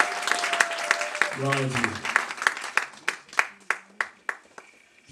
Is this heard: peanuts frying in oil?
no